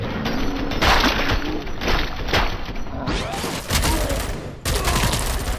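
Rapid bursts of gunfire and heavy impacts rattle through combat in RoboCop: Rogue City, loud and close, with thuds and shattering debris between volleys.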